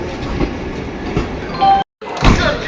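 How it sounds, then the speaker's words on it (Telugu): A Vande Bharat train rumbles and clacks at close range as it departs from platform 1 at a station, with a brief cut in the middle before the rolling noise returns. "వందే భారత్ అయితే డిపార్ట్ అవుతుంది అనమాట ప్లాట్ఫామ్ నెంబర్ 1 మీద నుంచి"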